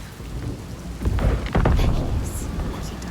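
Steady rain pours in the video game Senua's Saga: Hellblade II while rolls of thunder rumble and crack loudly through the middle, with a faint voice underneath.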